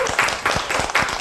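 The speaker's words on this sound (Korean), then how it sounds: "그럼 박수 한번 받을까요?" Applause from a small crowd of party members at a Gyeongnam Democratic Party gathering, a short burst of clapping in uneven waves, fairly close and moderately loud.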